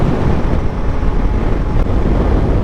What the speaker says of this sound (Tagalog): Takas talaga ng hangin, hinahapay tayo.